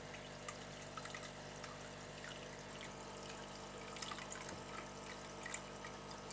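Water pours steadily into a balcony aquarium as new fish are released, a continuous trickling wash over a constant pump hum, with no voices.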